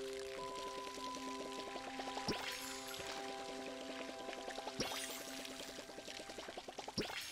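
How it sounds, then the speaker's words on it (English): Watering plants by hand in the farming video game Palia, a steady pouring trickle of water running for several seconds with layered tonal game-music notes and a few soft thuds, no talk. "and then of course also water them directly."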